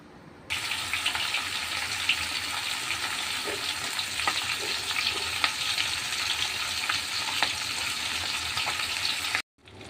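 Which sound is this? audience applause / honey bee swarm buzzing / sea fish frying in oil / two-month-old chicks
sea fish frying in oil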